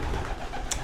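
A racing pigeon coos at its loft, a single soft, brief call set against steady outdoor background noise.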